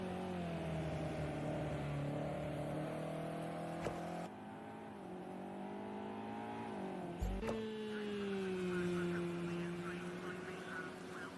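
A Porsche GTE race car engine in a racing video game at Spa holds a steady high-pitched whine that shifts pitch with gear changes and throttle, with a commentator talking over it.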